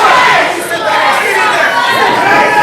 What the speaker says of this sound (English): Wow, this crowd just so behind the young Flash Carter